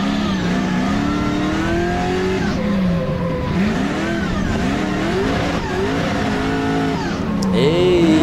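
Drift car at a French drift competition, its engine loudly revving and shifting through rising and falling pitch sweeps during a run, close and continuous, with tire noise and a commentator's voice underneath.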